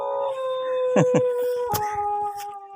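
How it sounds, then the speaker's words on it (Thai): A dog howls in long rising and falling cries, with short yips, over a steady sustained tonal drone that runs through the whole stretch. "จนหมาหอน"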